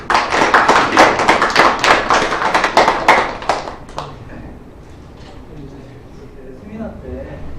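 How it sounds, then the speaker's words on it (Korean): Seminar audience applauding, a dense burst of clapping for about four seconds that then stops, followed by quieter room sounds. "박수로 한번 부탁드립니다."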